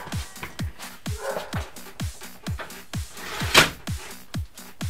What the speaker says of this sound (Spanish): El perrito está ladrando.